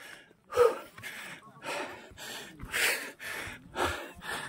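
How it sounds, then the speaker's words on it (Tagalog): A hiker pants heavily in thin mountain air on the Akiki Trail of Mt. Pulag, with a series of audible breaths and gasps in an uneven rhythm, close and moderately loud, without any clear talking. "Kaya medyo hingal."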